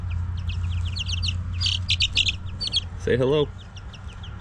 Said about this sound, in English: Got 5 little chickens here.